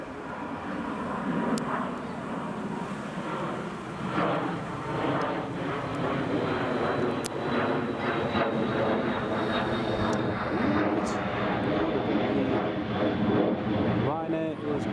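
A Ryanair airliner passes close overhead at Newcastle International Airport, a steady loud engine roar with rushing wind noise filling the whole stretch, while people talk over it.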